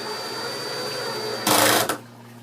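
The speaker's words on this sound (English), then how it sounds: "I'm going to go ahead and drive this screw." Cordless drill driving a screw: a steady motor whir, then a brief harsh louder burst as the adjustable clutch slips before the drill stops.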